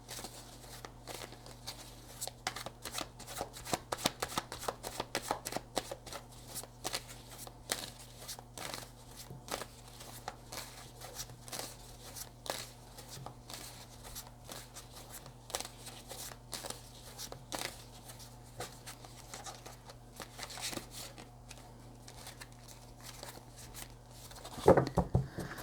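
A deck of Grand Lenormand cards is shuffled close by, with quiet, rapid riffling and slapping in uneven bursts over a long stretch and a sharper clack near the end.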